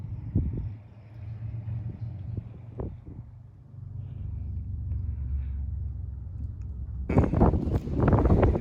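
Wind buffets the top of an abandoned brick factory, a low, steady rumbling roar close to the microphone, with sharper scrapes and knocks of handling near the end.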